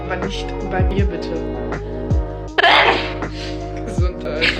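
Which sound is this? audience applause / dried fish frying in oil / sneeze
sneeze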